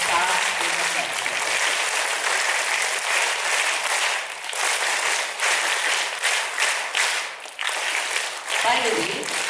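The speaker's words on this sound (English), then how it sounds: "Let's really give one more cheer up clap for the team as well as the staff in the platform." Audience at a youth parliament event claps and cheers for the team and staff, dense sustained applause for nearly ten seconds that never drops away.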